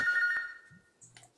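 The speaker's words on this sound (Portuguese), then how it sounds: "Seu telefone, amor. Seu telefone." A mobile phone rings briefly with a bright electronic tone that fades, followed by a few faint clicks and short beeps in a quiet room.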